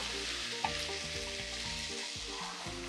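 Grilled bacon cubes and onion frying in a pan give a steady, close sizzle with soft stirring scrapes throughout.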